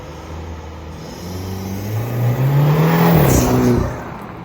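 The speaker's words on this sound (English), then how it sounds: "It's got legit turbo flutter." A turbocharged BMW engine fitted with an aftermarket intake revs up with a rising growl, then the throttle lifts and a fluttering turbo chatter follows, fairly close and loud.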